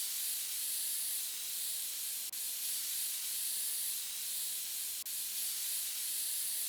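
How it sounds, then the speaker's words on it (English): Compressed air spraying to clean out a PC in PC Building Simulator, a steady loud hiss held for several seconds with two brief dips, no talking. "Let me grab some compressed air and we'll get this sucker cleaned out."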